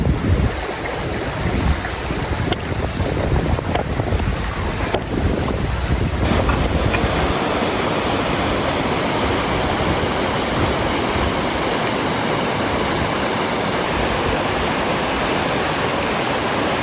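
A mountain spring stream in the hills of Hunza, Pakistan, flows with a steady, loud, broad rushing wash of water that continues unbroken, with no voices.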